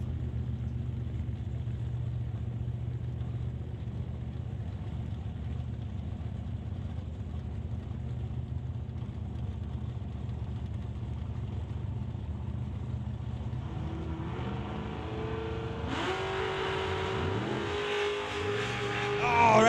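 A 1967 Chevy Camaro drag car idles with a steady low rumble at the start line before a second engine note rises late, revving up as launch approaches, fairly distant at a drag race event.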